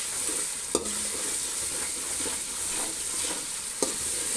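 Ginger garlic paste and ground spices fry in oil for a biryani, giving a steady close sizzle with a few sharp scraping stirs of a spoon against the pot, no speech.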